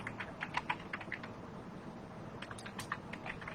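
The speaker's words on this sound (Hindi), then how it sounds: "इस जगह पे आपको इस बॉक्स में टाइपिंग करना है।" Quiet, irregular key clicks from someone typing on a computer keyboard during a typing test, in short bursts with brief pauses.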